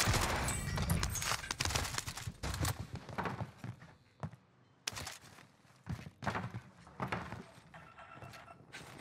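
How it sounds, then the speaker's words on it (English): Footsteps outside a building in the Call of Duty game on Rebirth Island come as irregular, fairly close thuds and scuffs, broken by short gaps, over about nine seconds. "Nessa, I'm hearing footsteps outside"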